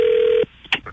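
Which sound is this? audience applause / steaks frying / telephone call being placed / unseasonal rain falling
telephone call being placed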